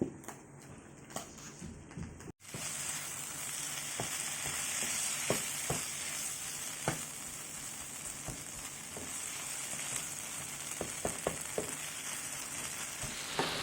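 Cactus cooks in a pan with salt and pepper, a steady close sizzle and fry broken by sharp clinks and scrapes of a utensil stirring, after a brief quieter stretch at the start.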